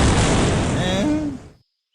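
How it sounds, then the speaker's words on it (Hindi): A cartoon landmine blast on a road: one loud, close booming explosion that rumbles and fades over about a second and a half, with faint whistling tones in the tail before silence. "गेंद नियत स्थान पर पहुंचते ही जोरदार धमाका होता है।"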